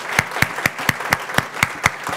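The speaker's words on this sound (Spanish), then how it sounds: "If you're going to give a clap to the Lord" Rhythmic unison clapping in a church service as the congregation claps for the Lord, nine sharp, evenly spaced claps close and loud with a steady beat and no talking.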